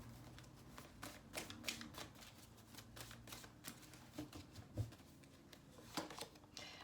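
Cards drawn and shuffled from a deck, quiet riffling flicks and soft snaps in an irregular series, close and faint, with no talking.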